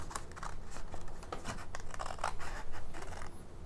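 Small craft scissors cutting through card stock for slimline greeting cards, a run of close, crisp snips and scraping blade strokes repeating over a few seconds in a quiet room.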